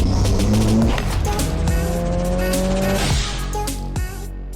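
A VW Up GTI with a 1.0-litre engine revs hard inside the cabin, rising and falling tones that hold steady then drop off, loud and close with no talk.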